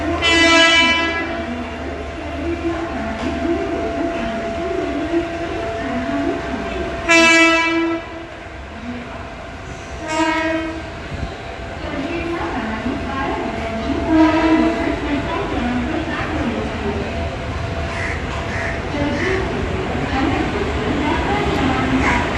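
A train arriving at a station, loud and close, with repeated horn blasts around the start, middle and later, over continuous rolling rumble and wheel clatter, with no talk standing out.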